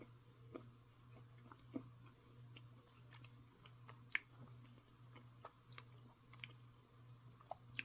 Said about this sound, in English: Let's give this a crunch.